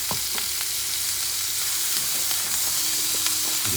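Elk meat sizzles and fries in a pan with a butter mix, a steady close crackling hiss with scattered pops and light stirring clinks.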